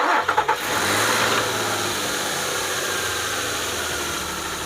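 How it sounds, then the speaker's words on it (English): A car engine cranks with a few quick turns, catches, and settles into a steady idle close by, after an oil cooler seal replacement and oil change. "We'll go ahead and start the engine"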